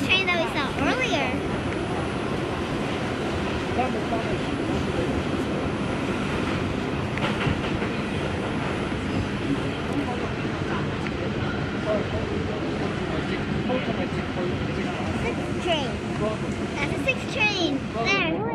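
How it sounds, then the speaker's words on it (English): A New York City subway 6 train rumbles past, a loud continuous roar with rattling, clattering wheels and squealing metal that runs the whole time, while people talk over it. "That's the 6 train that we saw earlier."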